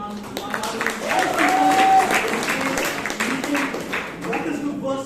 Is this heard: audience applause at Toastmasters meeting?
yes